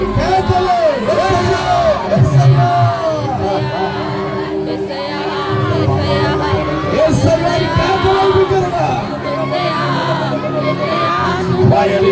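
Church congregation shouting and yelling together during a worship service, a loud continuous wall of overlapping cries and whoops from many people, with individual voices rising and falling throughout.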